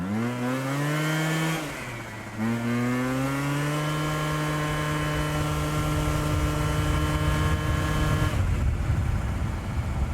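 A Yamaha Jog 70cc two-stroke scooter engine idles close by with a steady buzzing drone, briefly dipping and rising before settling back into an even idle, then fading out near the end.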